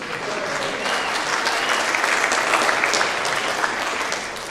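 Rally crowd in the Oriental Theater applauds a call to Democrats, thick continuous clapping that stays loud and even from start to finish, with no voices standing out.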